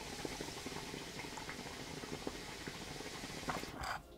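Moze Breeze Pro bong with diffuser bubbling softly, a quiet continuous gurgling with fine irregular pops throughout, fairly close and low in level, no talk.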